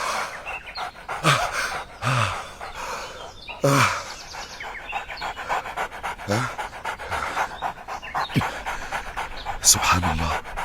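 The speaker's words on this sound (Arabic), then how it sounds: "يبدو كلبا هزيلا ضعيفا" A thin, weak dog panting in intense heat, rapid breathy gasps coming in bursts close by, with faint bird chirps in the background and a voice speaking over parts of it.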